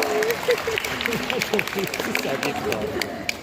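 Applause and cheering from a small crowd of parents at a preschool musical, steady clapping mixed with excited children's and adults' voices and chatter throughout.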